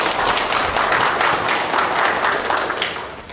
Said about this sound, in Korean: 상생 톡톡 파트에게 큰 박수 부탁드립니다.